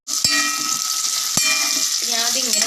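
Potatoes fry in hot oil with a loud, close, continuous sizzle, broken by a couple of sharp utensil taps, while someone talks over the frying.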